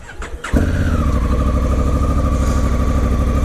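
A 2017 Honda Africa Twin motorcycle engine cranks briefly, catches with a loud burst, then settles into a steady, throbbing idle close by, running evenly to the end with no talking.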